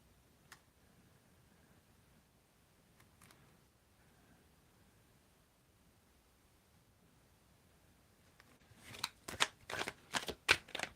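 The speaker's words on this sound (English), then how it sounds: "tell me when to stop shuffling" Tarot cards being shuffled close by, a run of rapid riffling bursts near the end after mostly quiet stretches with a few soft taps.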